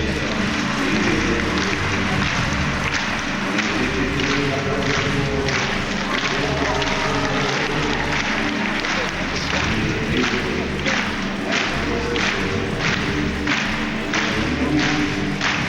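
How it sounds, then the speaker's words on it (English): Ice skating gala crowd in Warsaw applauding and cheering steadily behind a pair's exhibition skate, a dense continuous roar with rhythmic clapping throughout, under commentary. "these two just love to skate and entertain the crowd, and the crowd you can hear right behind them from the off"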